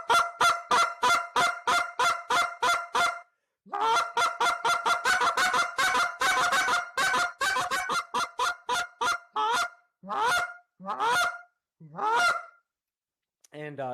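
A hand-blown goose call repeats rapid honking clucks in quick runs, with double clucks and triple clucks, then slows into a few drawn-out pleading moans, loud and close with no talking.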